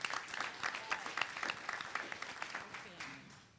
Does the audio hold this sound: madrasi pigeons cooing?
no